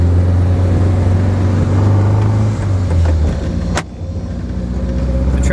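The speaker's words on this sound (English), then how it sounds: "And she comes to life. We'll take it down the end of the street." A 1973 VW Karmann Gia convertible with a rebuilt motor, driving down a street: a loud, steady air-cooled engine hum that drops and shifts pitch partway through, then settles back into a smooth, continuous drone.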